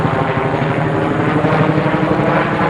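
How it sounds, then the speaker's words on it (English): Helicopter passing overhead near a home garage, a steady loud rotor thrum with rhythmic chopping pulses filling the whole clip, no talking. "Helicopter."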